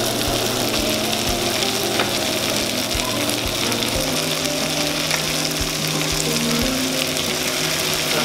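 Sweet potato and other vegetables hit a hot pan for pinakbet, producing a loud, continuous sizzle and frying hiss with occasional low clinks as pieces settle.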